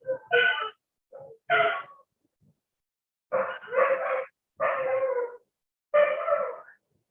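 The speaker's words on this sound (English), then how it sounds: "Lots of dogs barking" Several dogs bark in short, loud bursts, a few separate volleys with brief gaps between them, clear and fairly close with no talking.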